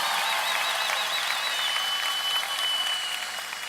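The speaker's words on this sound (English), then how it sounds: "Let's give him a round of applause anyway." Audience applause at a school district convocation, a sustained, dense clapping from a large indoor crowd that carries on steadily and fades a little toward the end.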